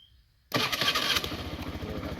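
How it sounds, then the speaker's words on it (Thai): A Honda Scoopy-i scooter with a stock engine fires up on the first try after a quiet moment, then settles into a loud, steady, close-up idle with no talking. "สตาร์ททีเดียวติดครับผม"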